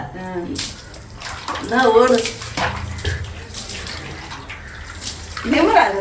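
Water poured over a child's head during a bath, with repeated sloshing pours and splashes, mixed with close voices of adults and children talking throughout.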